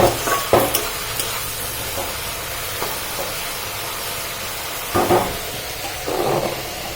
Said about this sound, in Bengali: আর এদিকে আমি আলু আর সিম ভাজাটা বসিয়ে দিয়েছি